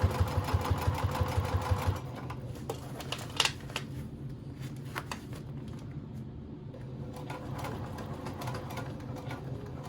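A sewing machine back stitches on a small beach pouch, starting with rapid rhythmic needle thumps, then settling into a steady running hum with a few clicks, close and alone.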